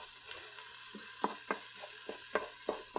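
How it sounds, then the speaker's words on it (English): A spoon scrapes a chicken mixture seasoned with dry Italian seasoning around a Ninja Foodi pot, giving a rhythmic series of soft knocks over a faint, steady sizzle. The sound is quiet and close, with no talking. "now let's give this a stir"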